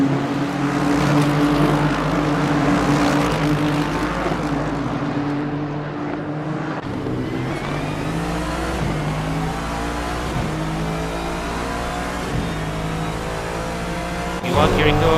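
Lexus RC-F GT3 race car engine in a racing video game, a loud steady engine note rising and falling through repeated gear shifts, with other cars around and a commentator talking over it.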